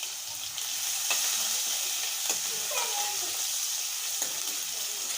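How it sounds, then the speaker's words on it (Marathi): Ten to twelve crushed garlic cloves and curry leaves sauté in a hot pan, giving a close, continuous sizzle with a few sharp spatula taps and crackles. "लसूण जरा परतून घ्यायचा."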